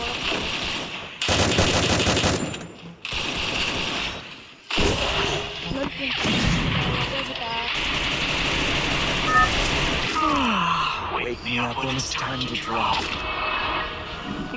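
Rapid automatic gunfire bursts from a shooting video game, loud and close, in several long volleys with short gaps, followed by denser mixed shots and game effects while someone talks over them.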